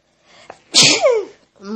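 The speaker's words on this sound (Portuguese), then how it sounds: "Eu também vou tentar espirrar de olho aberto." A single loud, close sneeze bursts out after a short sharp intake of breath, trailing into a voiced tail, with a brief murmur just after.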